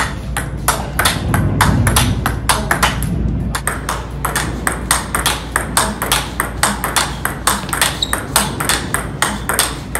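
Table tennis ball struck in cross-court forehand drives, a steady rally of crisp, sharp clicking hits roughly every half second, close and clear, with brief low talk at the start.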